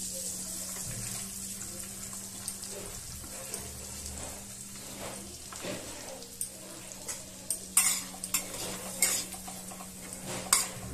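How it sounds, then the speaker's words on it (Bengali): Vegetables sizzle softly in butter in a wok, heard as a quiet continuous fry under a low hum, with a spoon scraping and clinking against the wok more often toward the end. "গরম হলে সবজিগুলো দিয়ে আগে নাড়িয়ে ভেজে নেব"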